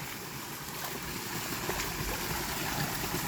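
A hillside waterfall stream pours down toward a creek where bamboo shoots grow, a steady, faint rushing wash of water with no talk over it.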